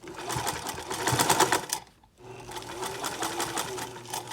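A sewing machine stitches bias binding onto a fabric potholder, running in a steady close whir, pausing briefly midway, then resuming at an even pace.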